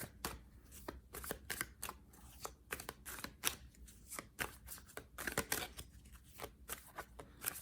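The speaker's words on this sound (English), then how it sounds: "Okay, I'm going to shuffle." Repeated crisp riffle shuffles of a tarot card deck, close and fairly quiet, coming in uneven bursts of snapping clicks with no talking.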